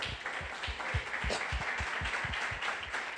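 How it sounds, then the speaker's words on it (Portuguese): A church congregation claps together during a Sunday worship service, a steady wash of many hands with sharper individual claps and low thumps running throughout, fairly close and sustained. "Aplauda o Rei"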